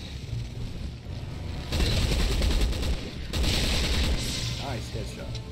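Gunfire in Resident Evil 6, from the Chris and Piers campaign, comes in loud, dense bursts of shots and blasts that swell twice across the stretch, with no talk over them.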